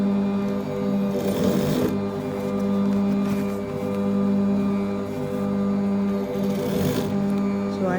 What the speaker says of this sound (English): So I decided to start the sewing from the middle, so that I can get it perfectly.